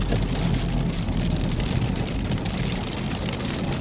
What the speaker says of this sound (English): So the rain is coming back down.